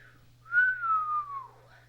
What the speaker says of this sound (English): Jack whistled.